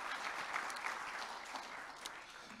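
Applause from a conference audience after an eco-solutions presentation, a steady crackle of many hands clapping at moderate level throughout, with no speech over it.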